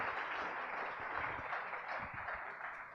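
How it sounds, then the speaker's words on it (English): Applause from an audience at a book discussion, a steady wash of many hands clapping at a distance, fairly soft and sustained. "So a big round of applause."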